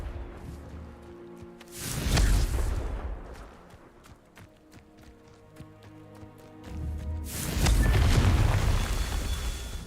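Two booming Confringo fire-spell blasts in Hogwarts Legacy, each a loud rumbling burst, separated by a stretch of rapid clicks and small impacts.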